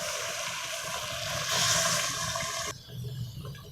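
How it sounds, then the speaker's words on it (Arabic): Two cups of boiling water poured into a cooking pot of pasta with ginger and cinnamon, a steady close rushing splash that swells midway and then cuts off, leaving a low bubbling. "كوبايتين ميه مغليين"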